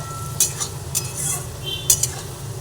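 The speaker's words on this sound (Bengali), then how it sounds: "আবার একটু নাড়াচাড়া করে নিই" A spoon stirs an eggplant and foli fish curry in a pan, giving a few quick metallic scrapes and clinks over a low, soft simmering sizzle, heard close.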